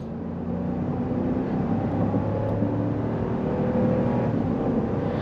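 A 2022 Jeep Wagoneer Series III with a 5.7L V8 and AWD accelerating from a green light, its engine droning and slowly rising in pitch under road and cabin noise, heard from inside.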